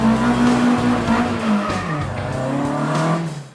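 A Ford Escort saloon car drives on the road, its engine droning loudly and close with a clear tone that sags and rises in pitch as the revs shift. It sounds continuous for a few seconds, then fades at the very end, with no talking.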